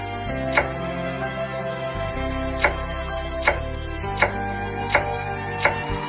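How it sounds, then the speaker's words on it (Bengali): A knife cuts through an onion on a board, giving six sharp, evenly spaced chops over steady background music. "রান্নাঘরে এসে আমি প্রথমে কেটে নিচ্ছি পেঁয়াজ"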